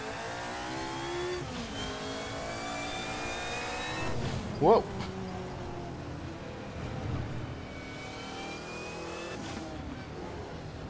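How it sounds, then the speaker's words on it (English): Race car engine from Assetto Corsa with the DRM Revival mod, droning steadily with rising gear pulls and shifts, close and continuous while someone comments over it and briefly exclaims. "this is one of the better sounding cars, I think, in this mod."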